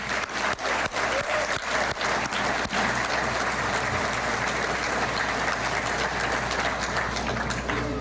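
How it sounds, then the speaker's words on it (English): Audience at the ArtPrize finalists announcement applauds steadily, a thick, even wash of clapping from a large crowd with a few sharp nearby claps at the start. "let's give them a round of applause"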